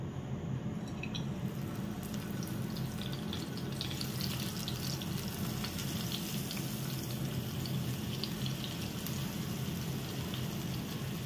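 Fish sizzles as it fries in hot oil in a home kitchen, a steady, even crackling hiss with tiny spits and pops, close and constant throughout with no speech.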